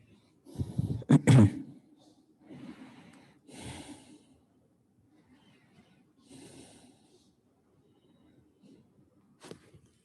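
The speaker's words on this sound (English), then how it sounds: "Normal breathing." Normal breathing during a guided yoga session. A few close, separate breaths are spaced several seconds apart, with a strong double exhale near the start and quiet stretches between them.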